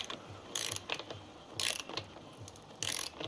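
A torque wrench tightening a suspension bolt to 8 newton meters on a Norco mountain bike, heard as three sharp, bright ratcheting bursts with soft clicks between them, close and fairly quiet.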